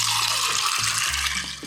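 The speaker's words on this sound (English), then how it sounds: "We're gonna pour that into a Don the Beachcomber cocktail glass." A swizzled cocktail pours steadily into a cocktail glass, a continuous close liquid splash and trickle with faint ice clinks throughout.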